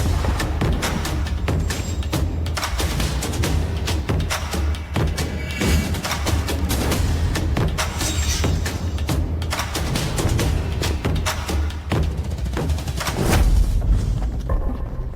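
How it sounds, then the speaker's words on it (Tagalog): Loud, continuous booming thuds and crackling bursts, like drums and firecrackers going off together without pause. "Papatunugin na ang mga tambol at paputok."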